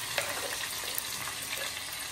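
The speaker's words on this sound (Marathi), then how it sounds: "आता तेल चांगलं गरम झालंय. टाकायचा कांदा." Chopped onion hits hot oil in a home kitchen pan, crackling and sizzling steadily with faint stirring clicks, close and alone.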